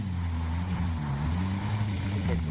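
A helicopter in the video game Call of Duty: Modern Warfare drones with a steady engine and rotor hum whose pitch drifts slightly as it flies away, with no talk.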